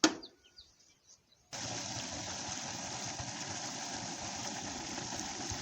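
Farm water pump motor starting up in the open and running steadily at a constant, loud drone, with a few birds chirping faintly beforehand.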